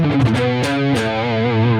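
Electric guitar strummed steadily with a light crunchy distortion, chords ringing out loud and close without any voices.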